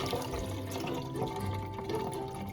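Running water swirls and splashes inside a jar of oats being rinsed, a steady close gurgling flow with a low hum beneath it.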